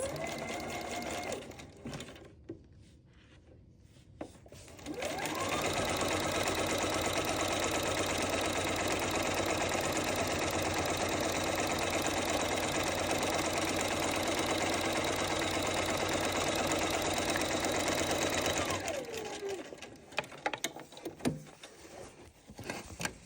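A sewing machine runs steadily for about fourteen seconds while stitching the seams of a fabric zippered organizer bag, a continuous close whirring motor hum with a loud start and stop and brief handling noise before and after.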